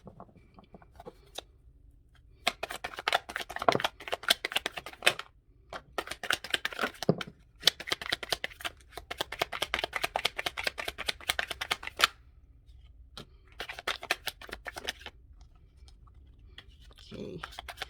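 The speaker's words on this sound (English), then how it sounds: "I'm going to do my normal 2 shuffles" Tarot cards are shuffled in several quick riffling bursts separated by short pauses, close and crisp in a quiet room.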